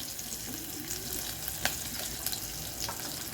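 Chillies and mustard seeds sizzle in hot oil with asafoetida, a steady crackling frying hiss with a few sharp pops, close and alone without talk.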